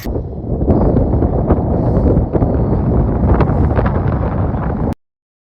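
Strong wind at Netravathi Peak buffets the microphone in a loud, continuous low rumble that roars steadily for about five seconds, then cuts off abruptly.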